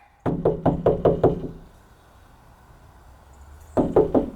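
Six quick hard knocks land in a fast run, loud and close, followed by a quiet gap and then another cluster of knocks.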